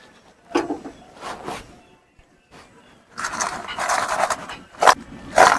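Pieces of hardened bread kotkoti sweet scrape and clatter in a pan in irregular bursts. A dense, louder rattling stretch comes near the end, with quiet pauses between the earlier knocks.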